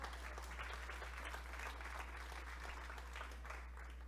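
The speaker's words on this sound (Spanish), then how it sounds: "Denle un fuerte aplauso a Dios." A church congregation gives a round of applause during a Spanish-language sermon, a faint, steady wash of many hands clapping together over a constant low electrical hum.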